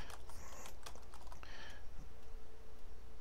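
Someone types on a computer keyboard in steady bursts of close clicking keystrokes, with brief pauses between runs.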